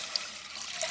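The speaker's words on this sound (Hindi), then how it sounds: "इसमें मैं इस पर ज़रूरत पानी डाल लूँगी" Water pours into a cooking pot of desi chicken and potatoes, a short steady splashing trickle heard alone, close and fairly quiet.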